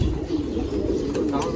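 Pigeons coo in a loft, a low murmuring burble close by, with people's voices mixed in around them.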